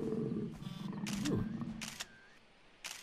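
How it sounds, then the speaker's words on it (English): A tiger in the video game Far Cry 3 gives a short, loud growling roar over steady game ambience, with a few bright clicks and rustles around it. "Hello, tiger."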